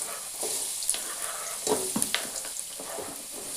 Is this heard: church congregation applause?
no